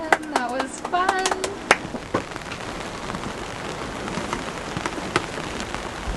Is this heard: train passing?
no